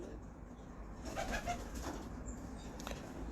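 Pigeons kept by a breeder coo softly in a low, muffled murmur with a few brief calls, faint against a steady background hum, no talking.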